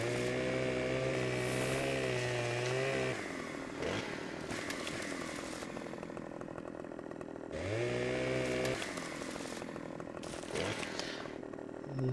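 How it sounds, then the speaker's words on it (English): A chainsaw cuts logs in the farming game Farming Simulator 2015, with its loud buzzing engine revving up and settling back in two long cycles of cutting, close and continuous, and no talk. "The chainsaw doesn't seem particularly buggy."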